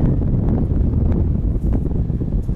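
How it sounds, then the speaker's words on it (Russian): Strong wind blows directly into the microphone outdoors, producing a loud, continuous low rumble with uneven buffeting throughout. "Блин, ветер поднялся лютейший."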